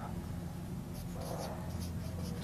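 Pen or marker writing out a physics calculation on a board or paper, faint scratchy strokes in short bursts over a constant low background hum, with no speech.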